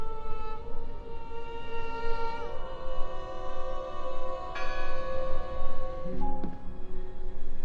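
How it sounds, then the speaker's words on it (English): A bell tolls inside the world of the video game Draugen, its long ringing tones overlapping and sustained across the whole stretch, with fresh strikes adding bright metallic overtones over a steady ambient background. "Listen! The bell! They're still in there!"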